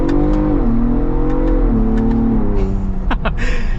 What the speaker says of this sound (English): Let's get our full-blown acceleration here.